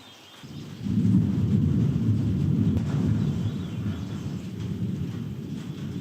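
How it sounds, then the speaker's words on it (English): Thunder rolls in with a low, sustained rumble that swells after a brief quiet start and stays loud, with rain drumming on a roof underneath through a thunderstorm. "Lightning and rain on the roof."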